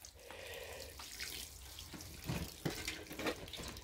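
Water is poured into a planter trough made from tin and wood, a close, steady splashing stream with a few louder gurgling bursts toward the end, faint overall and with no talk.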